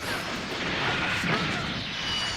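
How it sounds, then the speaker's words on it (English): A Spirit Explosion attack from the Dragon Ball Xenoverse 2 video game, a dense, continuous roaring blast of energy that stays loud and broad throughout without pause. "Spirit explosion."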